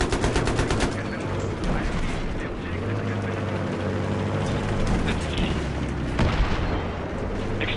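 Video game combat with rapid gunfire and booming explosions, dense and continuous throughout, with a player's voice talking over it.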